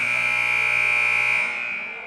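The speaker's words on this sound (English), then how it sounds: "As the buzzer sounds for the beginning of the fourth quarter" A loud, sustained electronic buzzer blares in a school gym at a varsity basketball game, marking the start of the fourth quarter; one steady tone holds for over a second before fading slightly, with no voices over it.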